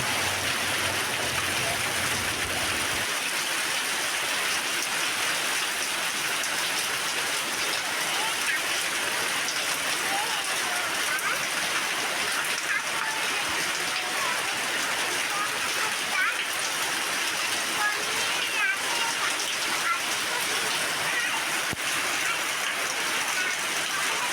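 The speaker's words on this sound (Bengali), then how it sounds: "দুপুরবেলাতেই ঝমঝম করে বৃষ্টি" Heavy rain pours down in a steady, dense hiss that fills the space continuously and stays close and loud throughout.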